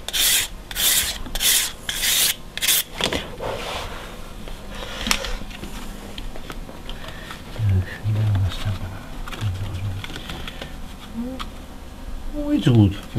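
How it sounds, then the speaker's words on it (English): Sanding the edge of a wooden deck plank for a ship model, heard as a run of rhythmic rasping strokes up close, then quieter scraping while people talk. "He's sanding the edge with a caulking."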